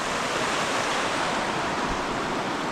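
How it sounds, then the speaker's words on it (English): Steady rushing of a mountain creek, the American Fork River in Utah, a dense continuous broadband roar of flowing water heard close and alone, with no voices over it. "Well, I'm down by the creek."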